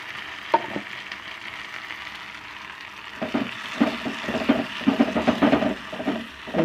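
Chopped onions and tomatoes sizzle and fry in a pan, a soft crackle that swells louder in the second half with stirring scrapes, alone without talk.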